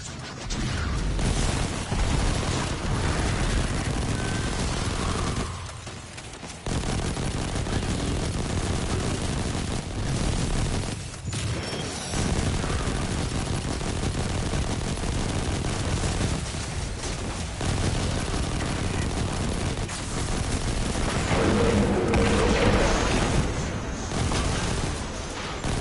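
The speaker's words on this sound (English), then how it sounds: "Who's blowing stuff up without me? I'm gonna get eyes on that explosion." Explosions and gunfire ring out in the Destiny 2 Forsaken campaign. Dense, loud booms and rattling shots run almost without a break, with a few short lulls.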